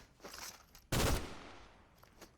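A single loud gunshot blast from a weapon in Fortnite, sharp and close, with a short decaying tail and faint game sounds around it.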